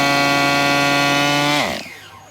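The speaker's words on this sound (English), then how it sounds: "The pressure is blowing the 3-in-1 and the fuel out." A small nitro engine screams at high, steady revs while blowing out 3-in-1 oil and fuel, then winds down sharply and cuts off near the end.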